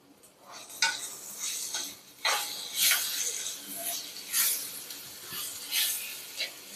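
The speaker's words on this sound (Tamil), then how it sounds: "உப்பு போட்டு வதக்குனிங்கன்னா நல்லா வதங்கிடும்." Onions sauté with salt and curry leaves in a pan for Chettinad chicken curry, with repeated bursts of stirring and scraping over a light sizzle, close and rhythmic.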